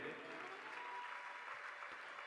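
An audience at a religious story gathering applauds in a steady, dense wash of clapping that holds evenly throughout.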